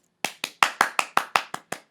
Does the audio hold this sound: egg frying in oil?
no